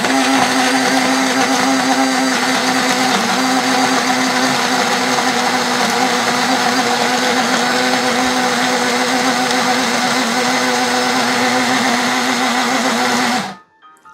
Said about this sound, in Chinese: 将啲姜葱咧摆晒落去个搅拌机入边，咁啊我呢个系一个微型嘅搅拌机啊